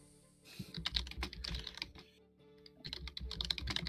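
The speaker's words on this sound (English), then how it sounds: "Why are you typing?" Quick bursts of clicking keys on a computer keyboard, two clusters of rapid typing separated by a short pause, close and fairly quiet.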